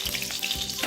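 Cumin seeds crackling in hot ghee for dal tadka, a dense close sizzle with quick popping through the whole short moment, no talk.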